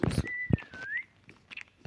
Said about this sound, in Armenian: Սուլիչ